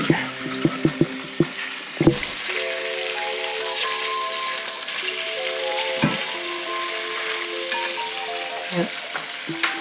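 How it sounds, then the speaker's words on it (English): Meat sears in a hot pan with a loud, continuous crackling sizzle, while sharp clanks and scrapes from the utensil mark the pieces being flipped at the start, middle and end, and a faint tone lingers underneath. "It's getting seared, so I'm just gonna flip over."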